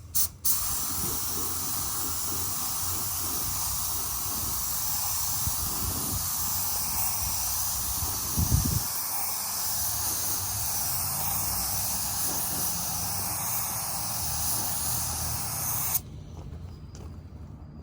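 Steady hissing spray from a paint spray gun applying a coat on a 2018 Ford EcoSport runs continuously for about sixteen seconds, broad and close, with a brief thump midway before it cuts off abruptly.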